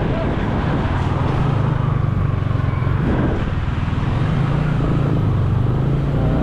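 A motorcycle tricycle drives along with a close, steady engine rumble and road noise throughout, with a voice heard faintly over it.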